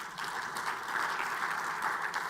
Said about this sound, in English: Can you clap for these partners?